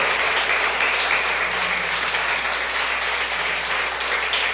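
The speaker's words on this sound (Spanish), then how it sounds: "Bien fuerte, un aplauso." A church congregation applauds loudly and steadily during a Spanish-language worship service, a dense continuous wash of clapping hands filling the room throughout.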